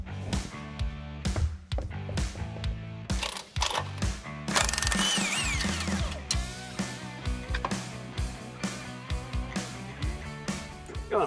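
A ratchet clicks in rapid bursts while wheels and tires come off a Nissan Frontier pickup truck, the mechanical ratcheting heard close among background music.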